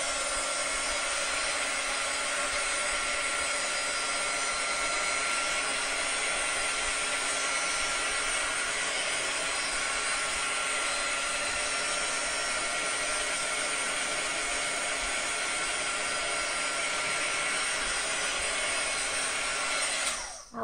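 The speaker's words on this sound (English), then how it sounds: "now I'm going to go ahead and try to heat dry that a little" A heat tool blows in a steady, loud, unbroken roar, drying paper coated with Distress Oxide ink. It cuts off abruptly at the end.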